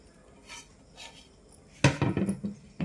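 Jaggery being grated by hand for a puffed rice and coconut snack, a few soft scraping strokes followed by a louder burst of rapid rasping grates.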